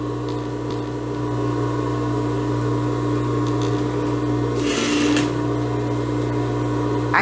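A sewing machine runs steadily while topstitching a folded edge on eyelet fabric for a blouse, giving a continuous, fairly loud mechanical hum with no talking.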